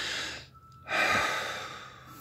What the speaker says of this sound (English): So one way to relax is to take a deep breath.